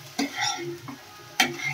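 Vegetables and garlic sautéing in a pan with no oil, giving a soft continuous stir-fry rustle with a couple of sharper scraping clinks from a spatula, fairly close.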